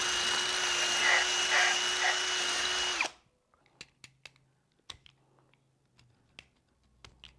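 An electric drill reams out a hole for an electrical outlet box. It whirs loudly for about three seconds, then stops abruptly, and a few scattered light clicks and taps follow in the quiet.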